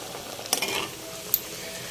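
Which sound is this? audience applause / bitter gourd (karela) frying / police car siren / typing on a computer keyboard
bitter gourd (karela) frying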